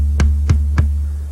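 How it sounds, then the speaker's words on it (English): A 6-ply 14-inch drum shell struck three times at an even pace, each hit a short, bright attack over a sustained low tone ringing underneath. "The drum shell that should have accompanied that is a 6-ply 14 that sounds like this."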